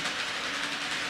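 A Kato N scale model train, a Silver Streak Zephyr, runs over rail crossings on a layout, giving a continuous close whirring rumble with faint track clatter and no talking.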